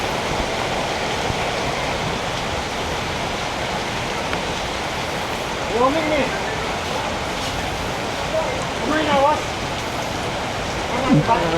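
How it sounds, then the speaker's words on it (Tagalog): Heavy rain pours steadily outdoors in a constant loud hiss around a food-delivery rider waiting in the downpour, with a voice speaking briefly a few times over it. "Grabe guys. Ang lakas ng ulan no."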